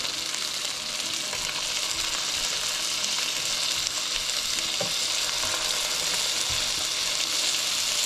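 Tomatoes tipped into browned onions in a hot pan for Indian methi chicken set off a loud, steady sizzle and crackle, with a few soft stirring knocks underneath.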